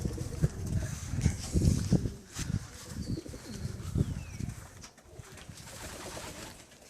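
Soft, repeated racing pigeon coos with a low throaty murmur, fairly close, over a faint outdoor background.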